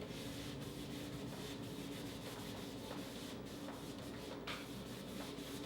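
A cloth rubs dark antiquing wax into a distressed, stenciled wooden table, a faint continuous scuffing and rasping at close range.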